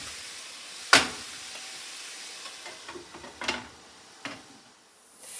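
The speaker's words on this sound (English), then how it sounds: "Stir this around." Beet greens, onions and garlic are stirred in a pan: a sharp spoon scrape or knock, then a few softer clinks over a faint, steady sizzle.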